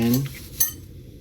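Food being stirred in a cooking pan for a spicy dish, a utensil clinking and scraping against the metal in a short burst near the start, then a fainter knock, with a quiet room behind.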